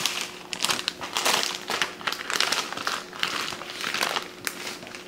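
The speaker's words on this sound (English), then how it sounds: "We're gonna get it inside our plastic bag." Plastic bag crinkles and rustles steadily as a beef eye round roast is worked inside it, a near, busy crackling texture with short bursts and no talking.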